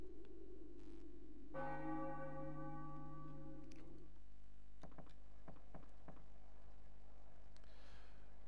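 A single deep church bell tolls once in Final Fantasy IX, a rich resonant strike that rings for a few seconds, followed by scattered soft game clicks and a faint breathy sound.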